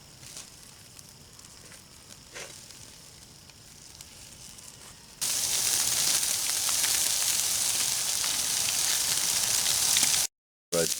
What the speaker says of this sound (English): I have to let these coals burn down some.